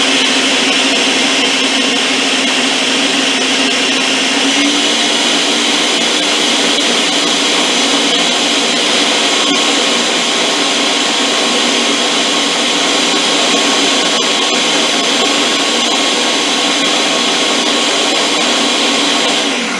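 A blender purees beef and bean soup on a loud, continuous high-speed whir, running unbroken and close the whole time.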